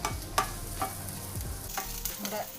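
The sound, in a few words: frying shallots, garlic, curry leaves and fennel seeds in pan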